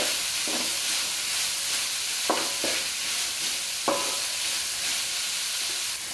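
Vegetables for egg noodles are tossed and sautéed in a pan with a constant, loud sizzling hiss, broken by a few soft stirring clunks up close and no talking.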